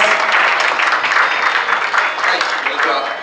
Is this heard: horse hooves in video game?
no